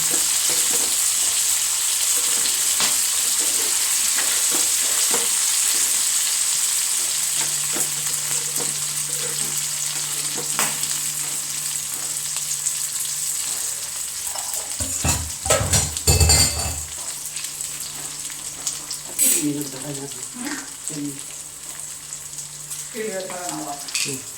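Ginger, green chili and garlic fry in a pan for a curry, giving a steady bright sizzle with occasional clinks and scrapes of a stirring spoon, plus a brief burst of louder stirring partway through.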